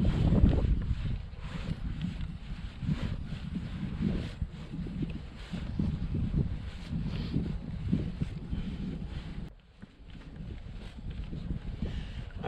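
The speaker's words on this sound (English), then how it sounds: "The wind's blowing me in here so much." Wind buffets a kayak on open water, a Native Falcon 11 being paddled. It makes a constant low rumbling roar of gusts against the microphone that eases briefly near the end, with no talking.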